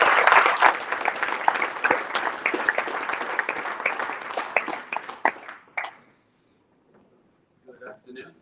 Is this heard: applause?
yes